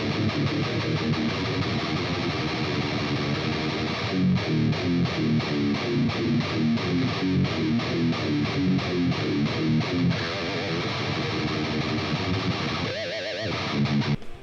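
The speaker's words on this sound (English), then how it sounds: "That dimebucker pickup in the bridge sounds beefy and heavy, and sounds great for doing metal rhythms and chugs." Heavily distorted Dean Razorback electric guitar played through its DimeBucker bridge pickup, chugging heavy metal rhythm riffs at a steady driving pulse, loud and continuous, with a brief pause and shift near the end.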